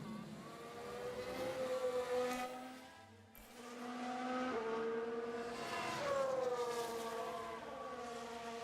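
Race car engine in the F1 Manager video game, a Mercedes spinning at the Abu Dhabi Grand Prix, with engine pitch rising and falling in wavering sweeps, a brief dip midway and then revving back up, loud and continuous.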